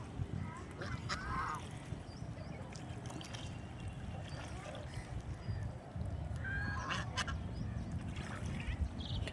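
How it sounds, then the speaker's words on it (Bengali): Geese on a large village pond give scattered honking calls, a few separate bursts over a low, steady outdoor rumble, moderately distant and fairly faint. "এখানে অনেক রাজহাঁস আছে।"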